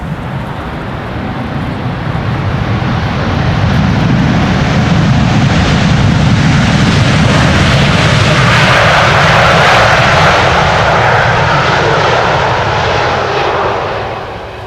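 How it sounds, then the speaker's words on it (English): A China Cargo Airlines Boeing 777 freighter, about one year old, arriving at Amsterdam Schiphol in stormy, windy weather after a long flight from Shanghai. A loud, sustained jet roar builds and holds close for most of the stretch, then fades slightly at the end. "This is China Cargo Airlines arriving from Shanghai"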